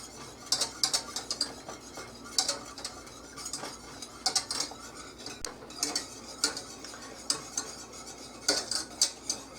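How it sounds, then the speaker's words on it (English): Chocolate cake mixture stirred in a pot on the stove, a spoon scraping and clinking against the metal in a steady rhythm of sharp, close taps and scrapes with no talking. "But you want to stir it constantly, otherwise you will burn the whole shebang and have to start all over again."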